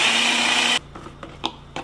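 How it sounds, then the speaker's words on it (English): A kitchen blender whirs loudly and steadily while blending chicken broth gravy, then cuts off, leaving a few faint clicks and knocks. "Let's finish our gravy. Add this to a blender."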